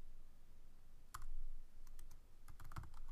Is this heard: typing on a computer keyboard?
yes